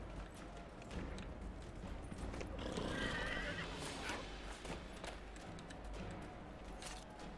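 A horse whinnies repeatedly in Dragon Age Inquisition, a clear, fairly close neigh over light hoof clip-clop and game ambience, no speech.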